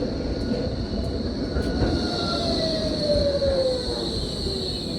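A tram rolls past on a German city street, its loud rumble joined by a rising wheel squeal and a faint tonal whine, close by and steady throughout with no speech.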